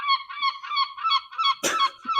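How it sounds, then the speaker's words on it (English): Seagulls calling over and over in a loud, rhythmic run of harsh, honking squawks, close by and with no talk, broken near the end by a brief burst of noise. "seagulls crazy today"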